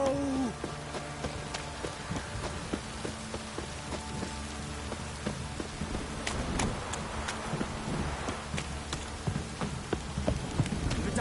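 Steady rainfall in The Witcher 3: Wild Hunt patters continuously across the whole stretch, a dense even downpour with faint scattered clatters and no voices.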